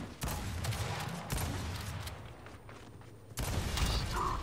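Gunfire in the video game Gears 5, with bursts of shots and sharp impacts from a 2v2 match, loud and close with a quieter gap in the middle.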